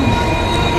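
Steady, loud rumble and rolling hum of a link express train at a station platform, heard close up as a continuous noise with no distinct breaks.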